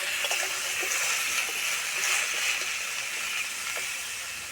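Pieces of ripe ash gourd fry slowly in oil with dried red chillies over low heat, giving a continuous soft sizzle and hiss with faint intermittent pops and clinks, close by and without speech.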